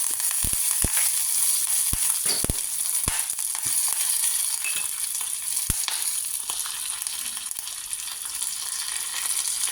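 Lentils and curry leaves sizzle in hot oil in a pan, a steady, close, bright hiss broken by scattered sharp pops and crackles, with no voices.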